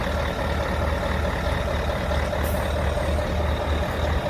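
Heavy transport trucks labour up a steep grade in Germany. A low, steady diesel drone holds throughout, with a constant higher whine and a brief hiss partway through, and no talking.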